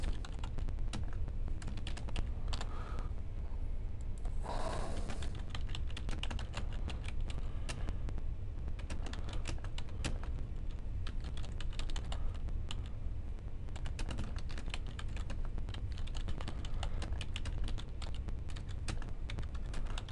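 A computer keyboard clatters with rapid, continuous typing for about twenty seconds, the quiet key clicks steady and close against low background hiss, with no talking.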